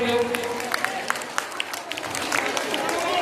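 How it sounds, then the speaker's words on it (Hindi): A school audience at an Independence Day event claps in a dense, moderately loud patter, with a few sharper individual claps standing out and some voice-like sound mixed in. "तालियां बजाइए सब लोग"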